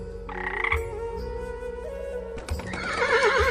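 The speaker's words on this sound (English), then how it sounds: "Horse, horse is used for ride the" A horse neighs and whinnies in a clear, fairly close call, with a rising whinny near the end over a steady low background of other animal sounds.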